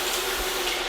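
Beef broth pours from a quarter-cup measure into a pan, a steady near liquid trickle for under a second with no talk.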